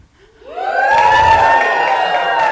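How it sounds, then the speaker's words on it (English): A crowd at a science burlesque show swells into loud cheering and whooping, voices rising from near silence into a sustained roar. "would you guys cheer as I do so?"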